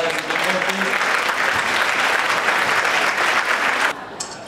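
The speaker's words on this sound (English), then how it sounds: "I want everyone to give a round of applause to each other for being here" A crowd gives a dense, loud round of applause at an evening event in Montreal. The clapping holds steady for about four seconds, then drops off abruptly, and a faint voice follows.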